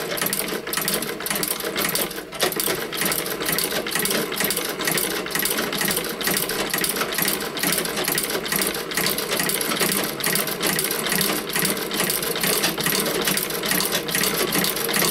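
A Singer 29K patcher sewing machine stitches a circle as the foot is turned, giving a steady, rapid mechanical chatter of needle strokes that runs continuously and close up, with no talking.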